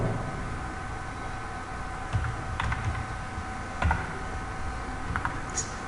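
Someone types on a computer keyboard with sparse, light clicks over a steady background hiss, a few keystrokes clustering in small bursts.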